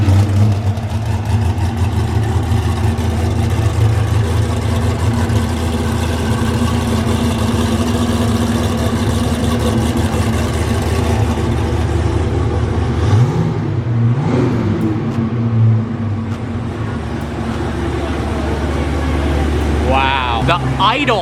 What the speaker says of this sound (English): The idle on this thing is insane. It sounds like a cammed muscle car.